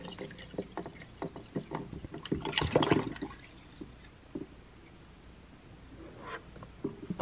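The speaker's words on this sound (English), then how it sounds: "I need to put water in there because it's totally empty" Water splashes and pours into an empty Levoit humidifier tank at close range, a busy liquid gush with pattering peaks and a strong surge midway, settling into quieter trickling before picking up again at the end.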